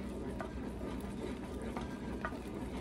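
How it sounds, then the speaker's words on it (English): A spoon stirs a hot toffee sugar mixture in a pot, giving a soft continuous scraping and bubbling sizzle at low volume with a few faint clicks. "We're gonna stir this."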